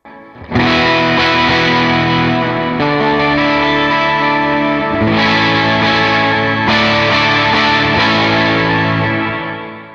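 An electric guitar with an octave effect on a Line 6 Helix plays thick, sustained chords, restruck every couple of seconds, loud and close with no voices.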